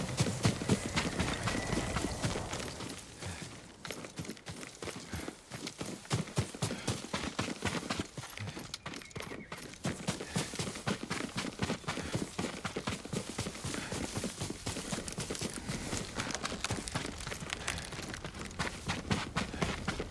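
Horse hooves clip-clop steadily at a brisk pace in feudal Japan in Ghost of Tsushima, continuous and fairly close, over a dense game ambience with no talk.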